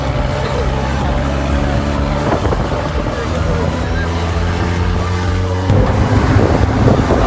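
A car engine drones steadily while the car climbs a steep mountain road in Bandarban, with wind buffeting the microphone and the engine note shifting as the gear changes, and people talking in the car.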